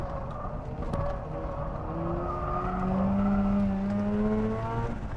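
Tuned Mazda RX-8 with Renesis rotary engine revving hard on a track, a buzzing rotary note climbing steadily in pitch through the gears, loud and close with a faint tire squeal and no talk.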